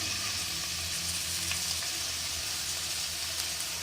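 Chopped onions hit hot oil in a pan for a chicken samosa filling, producing a steady, close, even sizzle with a soft crackle that holds unchanged throughout.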